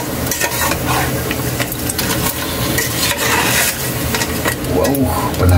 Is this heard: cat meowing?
no